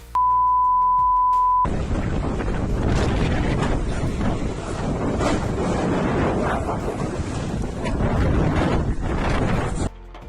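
Strong whirlwind gusts roar loud and unbroken for several seconds after a brief steady tone, buffeting the microphone with heavy rushing noise.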